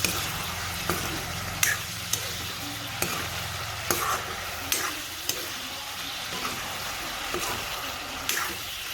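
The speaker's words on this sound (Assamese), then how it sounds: "এতিয়া মাংসটো চলাই দিম" Chicken meat frying in a pan is stirred in regular scraping strokes over a continuous close sizzle, each stroke a distinct clack against the pan, with no talk.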